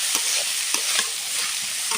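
Malabar spinach stems and seeds stir-fried in a pan, loud close sizzling with rhythmic scraping stirs every half second or so, no voices.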